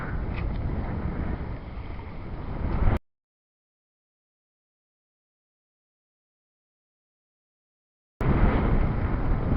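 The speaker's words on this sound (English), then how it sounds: "She handles these waves as if there's nothing there." A boat rumbles through rough water over the Bideford Bar with steady wind noise, cutting out abruptly into silence for several seconds before the churning resumes.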